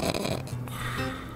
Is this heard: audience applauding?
no